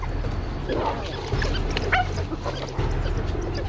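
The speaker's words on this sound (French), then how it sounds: "Des chiens sauvages." Excited yips and whimpering calls from a pack of African wild dogs, overlapping and continuous over a low rumbling background.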